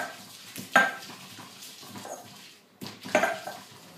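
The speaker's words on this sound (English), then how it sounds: "What you want to do is give that a bit of a mash, or if you're using it in your blender, just give it a bit of a blend." Pork belly sauce ingredients are mashed by hand in a bowl, giving soft squelches and two sharper knocks of utensil against the dish, close and fairly loud with no talk.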